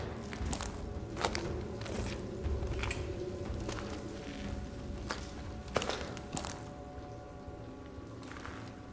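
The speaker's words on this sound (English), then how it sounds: "My footsteps so loud." Footsteps in the PC game Call of Duty: Advanced Warfare, on a stairwell strewn with glass, as a steady run of fairly loud, crunchy thuds under a constant low rumble of background game ambience.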